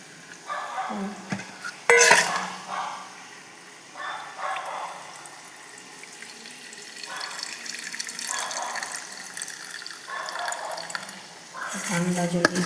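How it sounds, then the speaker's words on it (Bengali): Cold tap water runs over chow mein noodles as they are rinsed in a kitchen, with bursts of splashing and stirring that rise and fall over several seconds, and a louder clatter near the start and end, under occasional talking. "চাউমিনগুলো একটু ঠান্ডা জলে নিজে ধুয়ে নিচ্ছি।"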